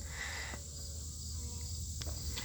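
A virgin queen honey bee toots inside a hive, a thin sustained piping tone holding steadily over a low, constant buzz of the colony, with a couple of brief sharp pulses near the end.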